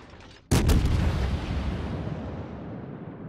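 Battleship guns of the German ship Kurfürst firing in the video game World of Warships: one sudden, massive boom that rolls into a long, loud rumbling decay.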